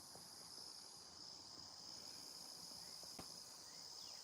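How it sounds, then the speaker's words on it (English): Crickets chirp outdoors at night as a faint, steady high-pitched drone that continues without a break. "We're out here with the animals, with the crickets"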